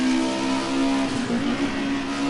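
Group A touring race cars, a Mercedes and a BMW, accelerating hard at the Rouen-les-Essarts circuit, their engines holding a loud, steady, close droning note throughout with no voices.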